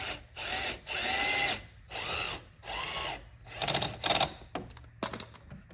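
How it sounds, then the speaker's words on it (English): Metal screws being gently driven into a plastic front license plate bracket on a Lexus ES 300h, heard as several short ratcheting turns in separate bursts, close and fairly quiet, with a few sharper clicks near the end. "Just gentle, because you are tightening metal screws into plastic,"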